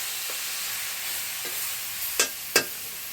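Steamed spinach is stirred in a hot pan for a Bengali palong shaker ghonto, with a constant hissing sizzle broken by two sharp scrapes of the spoon near the end.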